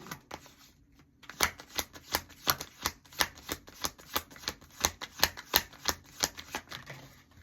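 Tarot cards are shuffled in a quick run of crisp, evenly spaced riffling snaps, fairly close and quiet, with no voices heard.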